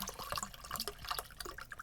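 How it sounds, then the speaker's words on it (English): Water splashes and trickles steadily into a container, a quiet close-up pour lasting under two seconds. "Then we're going to fill it up with some water."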